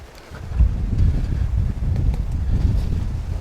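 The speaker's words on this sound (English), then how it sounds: "it's pretty windy from the south today" Strong wind buffets the microphone with a steady low roar and gusty rumbling, loud and close, no voices.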